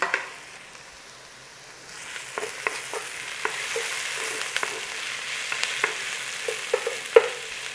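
Onions fry to golden in a pan with a steady, close sizzle, broken by small scrapes and clicks as they are stirred.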